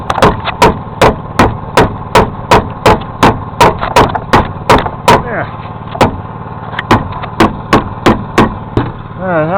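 Rapid, evenly spaced metallic hammer strikes flattening metal on a 1968 Ford Galaxie ring out, loud and close, pausing briefly before resuming, with a low engine-like hum underneath.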